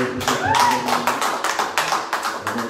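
An audience at a religious gathering claps to acclaim an apostle, with a burst of loose, irregular handclaps and brief vocal sounds mixed in.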